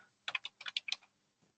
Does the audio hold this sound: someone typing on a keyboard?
yes